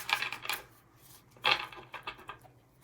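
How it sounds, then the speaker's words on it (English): Tarot cards shuffled by hand, quiet riffling bursts that come in short clustered flutters with brief pauses between them. "Shuffle it, shuffle it, shuffle it up."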